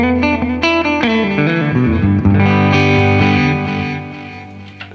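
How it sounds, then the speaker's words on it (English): Electric guitar run through a tape echo pedal, picked notes and chords repeating in warm trailing echoes that build and fade, loud and close with no voices. "And then I've got a tape echo."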